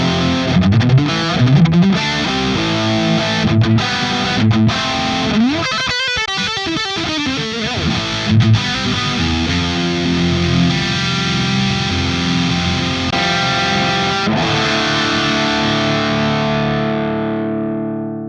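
Loud, heavily distorted electric guitar chords through a Cornford amp ring out, then a long sustained chord slowly fades away.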